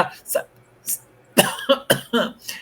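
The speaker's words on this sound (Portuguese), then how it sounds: "Eu não gerenciei a minha tosse agora." A speaker at a spiritist lecture coughs several times in short sharp bursts, close and loud, with brief pauses between them.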